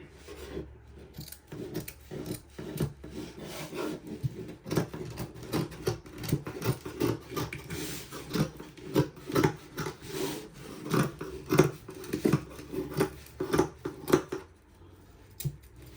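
Material being cut by hand with a saw-like tool, a run of rough rasping strokes in an uneven rhythm, close and fairly quiet, with short pauses between bursts.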